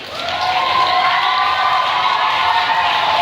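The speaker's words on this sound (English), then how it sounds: "We'd like to give the kindergartners a round of applause." Applause and cheering from a school audience for kindergartners after a leadership day play, a steady burst of clapping that swells in and holds loud.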